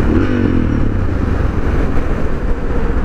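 Suzuki DR650 motorcycle fitted with an FMF exhaust, ridden at steady speed, its engine droning loud and close with a low, continuous rumble and a slight whine at the start.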